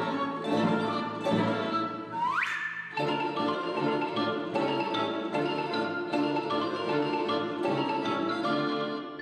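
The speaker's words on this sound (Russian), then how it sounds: "А вот как звучит, например, старинный итальянский танец тарантелло в сопровождении оркестра." An old Italian tarantella dance played by a folk orchestra, with a busy, continuous instrumental texture of bright plucked and bowed tones at steady, moderate loudness, and a brief rising sweep early on.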